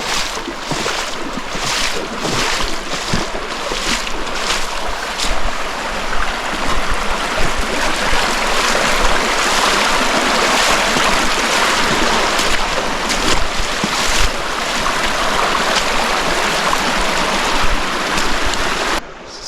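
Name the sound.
creek water flowing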